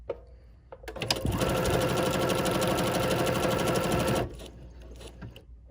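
A sewing machine stitches embroidery on a sampler block, its presser foot lowered by knee lever; a short start gives way to about three seconds of steady, close, fast needle chatter that stops abruptly, with no talk.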